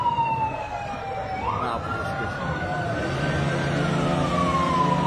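Loud police patrol car siren wailing nearby at a street party in Chimalhuacán, its pitch sweeping slowly up and down over crowd noise and traffic.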